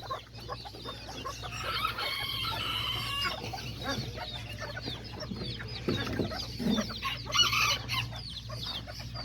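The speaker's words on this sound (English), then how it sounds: "these are all the little chickens" Chickens cluck and chatter continuously at close range, with scattered squawks and a rooster-like crow rising above the flock.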